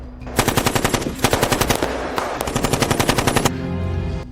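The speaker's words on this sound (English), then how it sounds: "Gunfire echoed through the trees" Machine-gun fire rattles through a forest as a sound effect, several long rapid bursts of close, loud shots separated by brief pauses, with a lingering echoing tail after the last burst.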